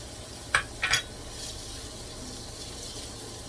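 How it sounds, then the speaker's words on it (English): Garlic and onions sizzle steadily in a hot pan while a utensil scrapes and stirs twice near the start, a soft continuous frying hiss underneath. "I'm going to add all this garlic"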